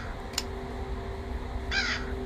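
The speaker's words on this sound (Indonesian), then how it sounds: "Nah, di sini ada burung gagak." A crow in the video game Granny gives a single harsh caw near the end over a steady low hum, with a brief sharp click earlier.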